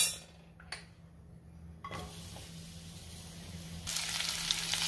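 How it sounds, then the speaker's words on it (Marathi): Onion frying in oil in a kadhai gives a soft, steady sizzle under a faint low hum, with a few brief clinks and a brighter burst of hiss toward the end. "त्यामध्ये थोडं तेल घालते आणि आपल्याला तेलावरती कांदा व्यवस्थित परतून"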